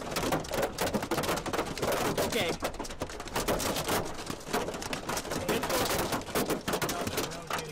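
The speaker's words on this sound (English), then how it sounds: "We're in some very heavy driving rain. Very large hail right now." Heavy, wind-driven rain and large hail around golf-ball size pound hard during a tornado-producing storm at Perryton, a dense, loud rattling roar of impacts throughout, with a brief voice near the end.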